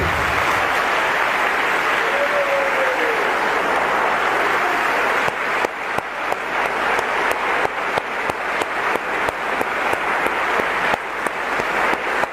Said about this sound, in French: j'aimerais qu'on acclame le Seigneur pour votre bonne disponibilité